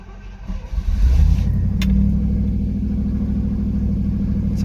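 A Triumph Stag engine catches and roars into life, a loud steady rumble at close range that continues unbroken to the end, with no talk.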